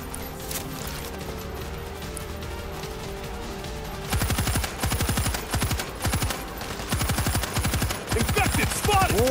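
A stationary machine gun in World War Z fires in loud, rapid bursts after a few seconds of low background rumble, each volley a dense rattle of shots separated by short pauses.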